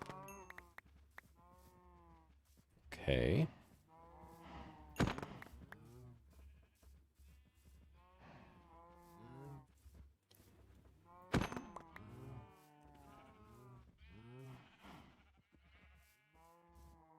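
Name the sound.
injured cows mooing in the video game Minecraft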